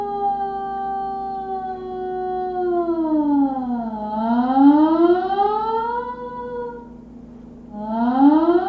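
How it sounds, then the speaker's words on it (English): A sustained tone from a D-Lev electronic instrument slides slowly down and back up in pitch, sweeping like a slow siren, then rises again at the end. "A gliss doesn't sound too weird until you slow it down."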